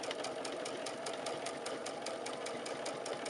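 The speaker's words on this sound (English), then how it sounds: "You're going to sew along this line, making sure your pin head is out of the way." A sewing machine stitches quilt fabric for a Lone Star quilt, running close with a steady, fast mechanical rattle and a rhythmic needle ticking throughout.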